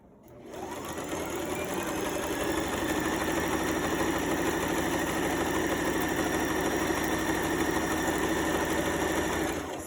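A sewing machine runs a zigzag stitch on a garment seam, starting up after a brief pause and then humming along steadily and loudly for the rest of the stretch, with no voices.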